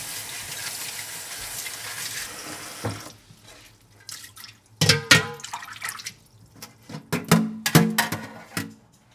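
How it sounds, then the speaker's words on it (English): Cold water runs from a tap steadily, then stops; afterwards splashes and gushes come in bursts as jellyfish is rinsed under the flow. "Now, I'm going to rinse in cold water and soak another hour."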